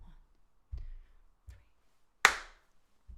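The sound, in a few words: hand clapping on beat four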